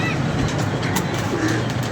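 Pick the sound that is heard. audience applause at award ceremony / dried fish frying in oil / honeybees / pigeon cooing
pigeon cooing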